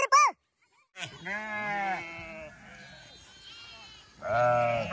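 Lamb bleating on a farm amid a herding flock of sheep, a short cry at the start and then a run of wavering bleats that swell loud again at the end, with a voice talking over them.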